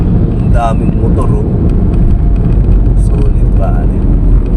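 Many motorcycles on a road in the Philippines, a dense continuous roar of engines passing close by, loud and steady throughout with brief horn-like tones and people talking underneath.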